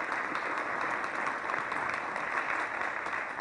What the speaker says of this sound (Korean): 권현영 교수님께 따뜻한 박수 부탁드리겠습니다.